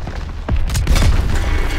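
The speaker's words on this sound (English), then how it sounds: "Panzer Shrek hitting us in the front!" A Panzerschreck rocket slams into the front in a Call of Duty WW2 battle, a loud close boom with a rolling, rumbling tail that lingers through the rest of the moment.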